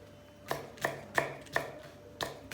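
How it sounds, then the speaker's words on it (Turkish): Knife chopping green peppers on a cutting board, six sharp evenly spaced chops close up with a faint steady hum underneath and no talking. "Üç tane yeşil biber doğruyorum."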